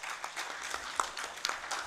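An audience at an international conference on combating infectious disease applauds, a soft, steady patter of many hands with a few sharper claps standing out, fairly distant and low in level.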